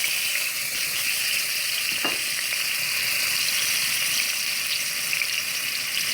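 Steady, close sizzling and crackling of garlic and pimento peppers frying in hot oil in a pot fills the whole stretch, with a faint clink partway through.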